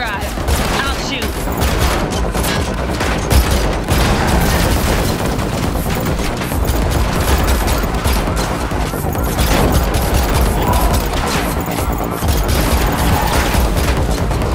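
Gunfire in The Matrix Awakens on PS5 during a car chase, with one character driving while another shoots: dense, nearly continuous bursts of rapid shots and crashes that last throughout, mixed with engine noise and occasional voices.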